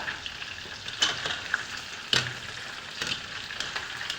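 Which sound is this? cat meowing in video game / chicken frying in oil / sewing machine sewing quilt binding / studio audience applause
chicken frying in oil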